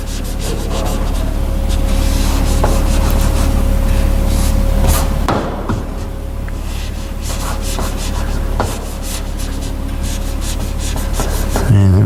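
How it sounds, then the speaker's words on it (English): Writing is rubbed off a classroom board during a trigonometry lesson, making loud, close, continuous scrubbing strokes with a brief pause partway through. "So I'm going to rub this out."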